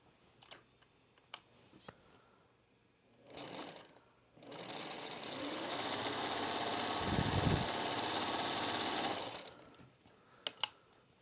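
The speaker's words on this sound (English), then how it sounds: "I'm going to sew these with a 1/4 inch seam allowance." A sewing machine stitches pillowcase fabric with a 1/4 inch seam in one continuous fast run of about five seconds, close and clear, framed by quiet handling clicks and taps before and after.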